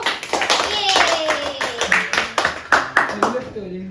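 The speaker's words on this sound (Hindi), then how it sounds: "तालियां इसके लिए।" A small group claps in an informal, homemade reality-show game among friends or family. The claps come as a short, uneven burst of distinct hand strikes, mixed with overlapping talk and children's voices.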